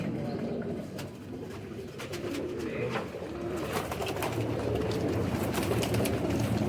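Clean pigeons kept for high flying, called wild and fast, coo in a steady low murmur with overlapping calls, a continuous near flock sound joined by occasional sharp higher clicks and chirps.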